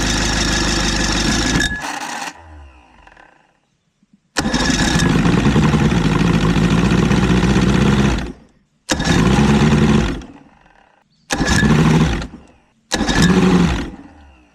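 A 50-year-old boat outboard engine fitted with new reed valves, coil packs and CDI cranks and catches, running loudly before cutting out, then restarting in several short bursts with brief silences between.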